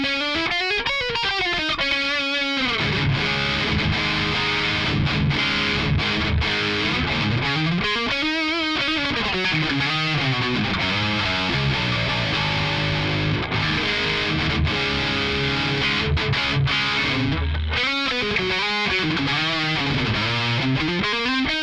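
A seven-string electric guitar on its neck pickup plays through heavy distortion and effects, with sustained notes and bends sweeping up and down over a dense, loud, continuous wash of sound, no voices heard.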